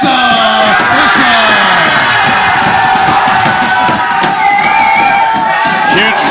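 A loud, dense crowd cheers and roars continuously for the fighter Issa at the Grapple Mania 26 grappling event, with whoops and shouts rising through the din and no break in the noise.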